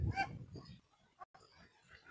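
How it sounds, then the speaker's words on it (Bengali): Ducks at a small pond give a burst of nasal, honking quacks, loudest at first and then fainter, with soft speech in the background. "দেখুন কতগুলো হাঁস"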